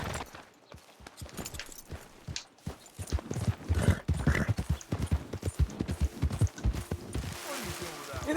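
Horse hooves clop in a quick, steady rhythm while riding in the Red Dead Redemption 2 video game, close and continuous, with spoken voices layered over the hoofbeats.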